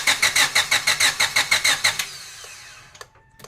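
A Honda Civic with an idle air control valve fault cranks over in a long run of rapid, even starter pulses before catching, then settles into a quieter idle with a few clicks, heard close up.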